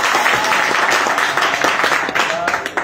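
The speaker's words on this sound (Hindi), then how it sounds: "इसके लिए जोरदार ताली" Loud, dense applause from a crowd at a workshop on finding faults in dead sets, steady clapping throughout with a voice briefly heard over it.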